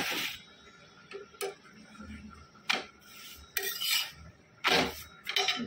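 Roti pan-frying on a kitchen pan while it is handled, giving bursts of scraping and rubbing against the metal that come in irregular spurts between quieter moments.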